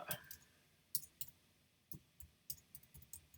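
Keyboard typing close by: a steady run of light, sharp clicks with uneven gaps, no voices.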